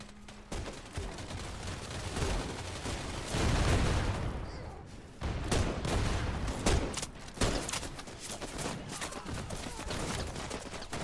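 Bursts of gunfire crack repeatedly in an online shooter match with snipers on the field, close and loud, with a dense volley in the middle and scattered sharp shots after.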